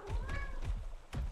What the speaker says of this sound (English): Did you just hear my cat? That was my cat.